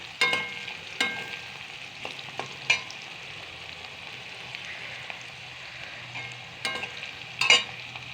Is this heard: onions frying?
yes